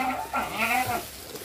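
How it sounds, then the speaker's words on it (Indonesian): Goats bleating in a farm pen in Cibubur during morning feeding, with sheep kept alongside; several overlapping, wavering bleats sound close and fairly loud, then fade into quieter pen noise. "jadi ini yang kambing masih kasih makan pagi"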